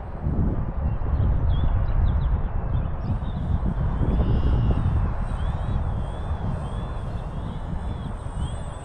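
A radio-controlled airplane's small engine whines overhead as it comes in to land in high wind, its pitch wavering above heavy, rumbling wind buffeting the microphone.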